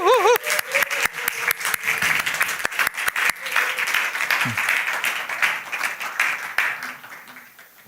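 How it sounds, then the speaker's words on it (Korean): A church congregation at a Sunday service bursts into loud, sustained applause with some cheering, dense clapping close by that gradually thins and fades toward the end. "나오실 때 큰 박수로, 함성으로"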